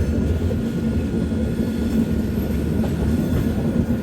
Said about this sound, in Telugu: మన ఇంజిన్ పక్కన మెమో ట్రైన్ కూడా పోతుంది ఆడ